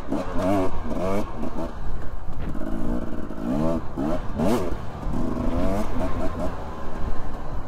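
Husqvarna TE dirt bike engine revving under throttle, repeated rising blips climbing in pitch over a rough idle, close and loud, with someone talking in between.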